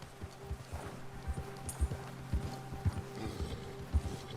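Horse hooves clip-clopping at a steady walking rhythm in Red Dead Redemption 2, a series of distinct, close, moderately loud thuds over a low ambient bed with faint mechanical clicking.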